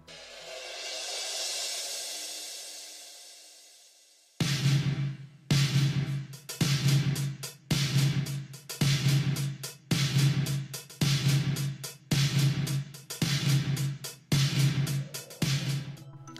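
Drum kit playing the beat of a song, loud and close: after a few seconds of faint noise, punchy kick and snare hits repeat in a steady, driving rhythm with no voices.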